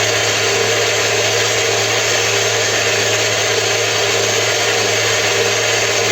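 An electric mixer beats 500 grams of butter for a cream, a loud, steady whirring drone that runs without a break and with no voices.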